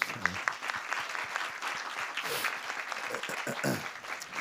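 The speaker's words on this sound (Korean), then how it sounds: "다시 한번 우리 주님께 박수" Congregation applauding at an early-morning New Year church prayer service, a dense run of clapping with distinct individual claps audible throughout, moderately loud and fairly close.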